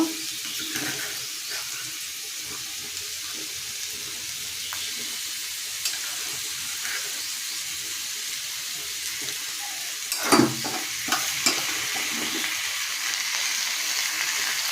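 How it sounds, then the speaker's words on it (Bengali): Ground spices and turmeric go into a hot frying pan for a potato and paneer curry, bringing a soft, steady sizzle and faint stirring, then a brief louder clatter near the end, all without speech. "এক এক করে সব মশলাগুলো দিয়ে দেব।"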